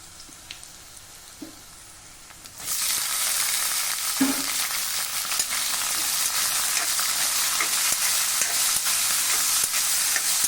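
Lemons dropping into hot oil with ginger and garlic: a quiet pan with faint clinks, then a sudden loud sizzle that holds steady, broken by occasional stirring knocks and scrapes.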